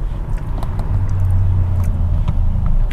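Low steady engine rumble of cars crawling in a morning traffic jam in Vietnam, a continuous near drone with a sustained hum and faint scattered clicks, no talk.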